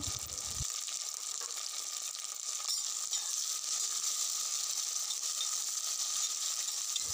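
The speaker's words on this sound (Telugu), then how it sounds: "టమాటోస్ అన్నీ వేసాక నేనైతే ఒకసారి కలుపుకున్నాను, మంచిగా టమాటోస్ అయితే ఫ్రై అయ్యేలాగా" Potatoes and tomatoes fry in a pan for aloo fry curry, giving a continuous soft hiss and crackle, faint and even throughout with no talking.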